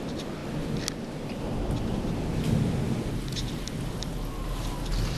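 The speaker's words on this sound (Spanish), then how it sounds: "me levanté con la sorpresa de que está lloviendo, pero está tronando" Heavy rain pours steadily outdoors while thunder rumbles low and continuous beneath it, with scattered drops tapping nearby surfaces throughout.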